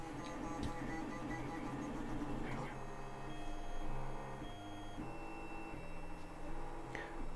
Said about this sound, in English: So I'm going to heat the bed up and start that print off again